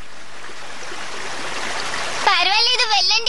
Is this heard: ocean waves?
yes